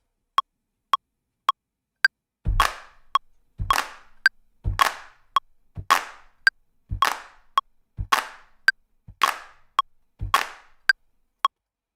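Sharp, dry Palmas-style handclaps from a clap machine, a steady grid of thin tick-like hits interleaved with fuller, roomier claps in a regular rhythm, loud and close with no talk.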